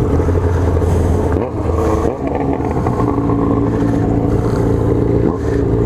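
A Yamaha XJ6 four-cylinder motorcycle engine roars loud and close, holding a high, steady rev with brief dips as the throttle shifts during street riding.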